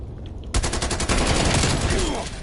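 Video game gunfire aimed at the player, a sudden burst of rapid automatic shots that starts abruptly and rattles on loudly to the end.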